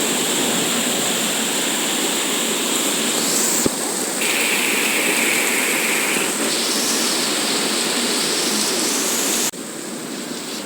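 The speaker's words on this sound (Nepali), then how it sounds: "भीषण पानी पऱ्यो" Heavy rain pours without letup on a city street at night in Kathmandu, a dense, loud roar of water that fills the scene, with a brief drop in intensity near the end.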